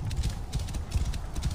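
A horse gallops in the video game Assassin's Creed Origins, its hooves beating out a quick, steady clip-clop rhythm at close range, with no talking.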